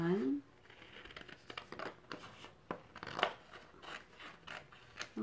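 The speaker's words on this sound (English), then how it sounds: "So, just going to cut, because I only need one." Scissors snipping through craft material while making a glue tumbler, a run of short, crisp cuts spread across the moment, with faint voices and rustling in the background.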